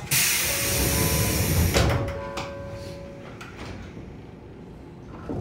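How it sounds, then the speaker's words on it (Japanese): A train's sliding doors close with a loud pneumatic hiss and a rolling slide, ending in a firm thud and faint mechanical clicks as the hiss dies away. "ドアが閉まります。"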